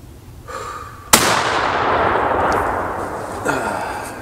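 A shotgun fires a Winchester Super X 1 ounce, 2 3/4 inch slug rated at 1,600 feet per second: one loud, close blast with a long rumbling decay that fades over several seconds.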